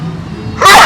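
A single short sneeze bursts out at the very end after a faint murmur of background noise, close and fairly loud.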